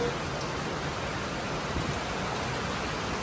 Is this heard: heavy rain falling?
yes